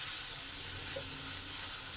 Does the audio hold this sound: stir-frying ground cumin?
yes